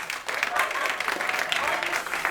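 Crowd applause at a King of the Ring 2024 wrestling event, a fairly dense run of clapping heard at moderate distance with voices mixed in underneath.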